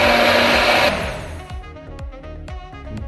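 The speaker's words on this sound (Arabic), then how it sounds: "نبقاو نزيدو غير بشويه ونوليو نميكسي" An electric blender whirs loudly while mixing mayonnaise as oil is added, first a steady high-pitched roar, then dropping to a lower, uneven churning with rhythmic pulses as the motor slows, close and alone.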